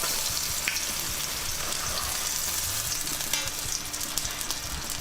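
A cheese sandwich sizzles in a very hot skillet, a close, steady frying hiss with small crackles and pops and no talking.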